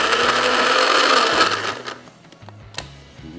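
Peanuts being ground in an electric chopper machine for peanut butter: a loud whirring motor buzz for about two seconds, then the motor winds down into quieter intermittent bursts and rattles.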